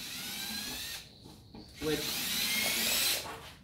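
A power tool tightens wall anchors into a wall, its high whirring drill run pausing briefly twice then resuming steadily at close range, with a brief spoken word mixed in.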